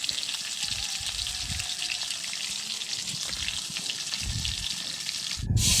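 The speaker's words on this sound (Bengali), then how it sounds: "এবার মাছটাকে ভাজা হচ্ছে।" Fish, cut and rubbed with salt and turmeric, fries in a pan with a steady, dense sizzle and crackle that continues throughout, with a louder splash near the end.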